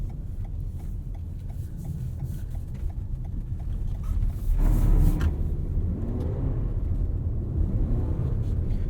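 A Toyota RAV4 Prime's 2.5-liter Atkinson-cycle four-cylinder hybrid engine runs with a low, steady rumble in winter driving, its drone swelling and rising in pitch midway as it picks up under load.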